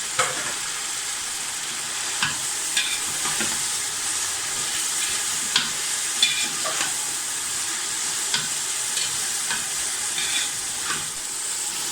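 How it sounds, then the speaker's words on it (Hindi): Shredded cabbage being stir-fried and mixed for vegetable rice, a continuous close sizzle with regular scraping and stirring clicks of the spatula. "उसके बाद हम ऐड करेंगे बंद गोभी और इसको हम अच्छी तरह से मिक्स कर लेंगे।"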